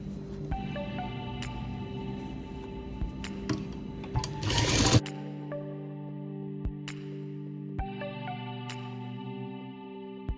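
A sewing machine stitches a fabric strip onto a baby cap, humming steadily in close, even runs that pause briefly and then restart.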